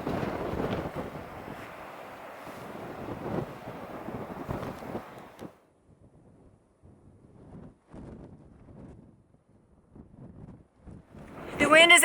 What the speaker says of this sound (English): The wind is absolutely insane.